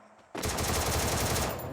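Gunfire in the video game Free Fire, a rapid close burst of automatic shots in quick rhythmic succession lasting over a second, loud and alone.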